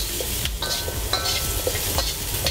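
Onions and garlic in hot oil in a pan, a dense loud sizzle with quick utensil scrapes and light clatter as they are turned, close up and continuous with no speech.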